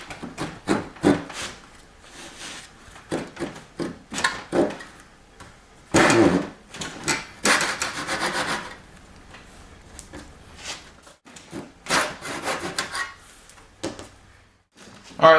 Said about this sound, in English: I'm using my dovetail saw